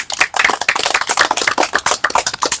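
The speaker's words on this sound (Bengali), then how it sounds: "তাহলে সবাই হাততালি দাও" An audience at a challenge to eat 20 packets of fried peas without drinking water claps hands in a rapid, dense burst of many overlapping claps, close and loud throughout, with no speech.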